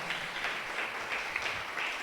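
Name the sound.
congregation applauding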